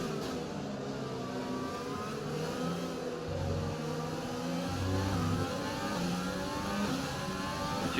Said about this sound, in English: Two pink cars race now.